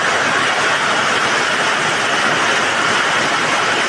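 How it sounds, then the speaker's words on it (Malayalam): Strong wind and heavy rain lash a place in Ernakulam, Kerala, as a loud, unbroken roaring rush that stays at a constant level throughout. "കാറ്റും മഴയും കൂടിയാണ്"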